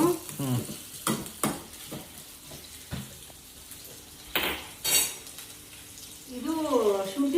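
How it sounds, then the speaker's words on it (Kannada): Onions sizzle softly in a pan as they fry toward a reddish brown, with clinks of a spoon against metal, stirring noises and a few bursts of speech. "ಒಂದೂವರೆ ಈರುಳ್ಳಿನ ಈ ಥರ ಏನದು ಇದು ಕೆಂಪಗಾಗೋ ಥರ ಹುರ್ಕೋಬೇಕು"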